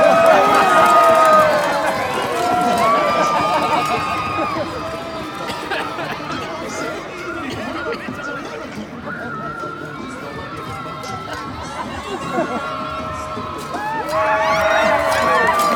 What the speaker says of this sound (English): you must jump up and down, make a lot of noise, go crazy!